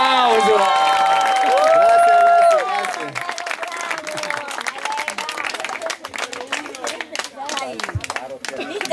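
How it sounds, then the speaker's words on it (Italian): Audience applause and cheering at a live show, loud at first over a sustained sung or held vocal tone, then continuing as scattered clapping with chatter and a voice speaking over it. "Un applauso!"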